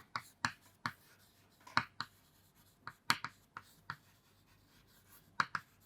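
A pen writes element symbols for a periodic table, giving sparse, crisp taps and short strokes at irregular intervals, close and fairly quiet, with no talking.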